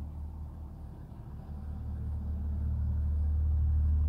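A truck engine rumbles steadily with a deep low drone that swells louder toward the end as it draws nearer, with no voices over it.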